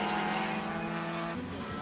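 Race cars at Mid-Ohio roar past on the track, a loud engine note holding then dropping in pitch as one car passes and another follows close behind.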